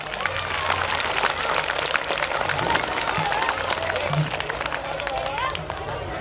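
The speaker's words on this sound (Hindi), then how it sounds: "इसके लिए तालियां बजानी पड़ेगी और जोर से।" Audience applause at a school annual function, dense sustained clapping from a large crowd with cheering and chatter, steady throughout while a voice talks over it.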